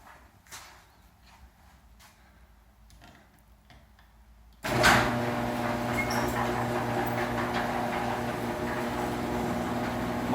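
A Genie screw-drive garage door opener, freshly lubricated, starts up after a few quiet clicks and taps, then runs with a loud, steady motor hum and whir that continues to the end.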